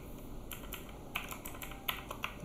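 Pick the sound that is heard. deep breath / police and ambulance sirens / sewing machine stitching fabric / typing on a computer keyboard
typing on a computer keyboard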